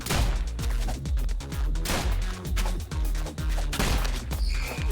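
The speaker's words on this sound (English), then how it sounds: "They're going to be sending bullets absolutely everywhere." Dense, rapid gunfire in the video game ROUNDS, loud continuous volleys of overlapping shots and booming impacts with little pause throughout.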